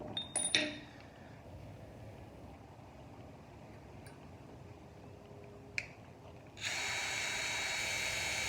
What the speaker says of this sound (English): we're gonna go to 1 3/8 bit to a hole saw bit, so to cut the notch out